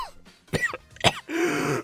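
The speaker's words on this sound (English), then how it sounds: "This dry cough just keeps going." Several dry coughs and a throat clear, close by: two sharp separate hacks followed by a longer rasping, breathy cough.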